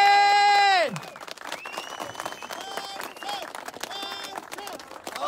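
Armenians at a protest blocking a European highway break into crowd applause after a sustained horn-like tone, the clapping mixed with shouting voices.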